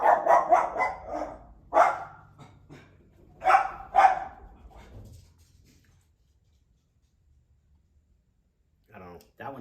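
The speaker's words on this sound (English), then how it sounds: "Ooh, he's gonna bark." A dog barks a few times in a home while people talk and coo over it. After the voices the room falls quiet, and a brief sound returns at the very end.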